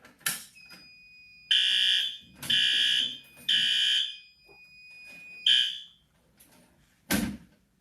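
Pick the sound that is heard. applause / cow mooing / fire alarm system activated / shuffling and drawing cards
fire alarm system activated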